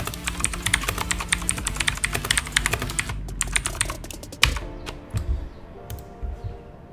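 Rapid keystrokes on a computer keyboard click in a fast, dense patter for about four seconds, then slow to scattered taps with a faint mechanical hum, close and clear without talk.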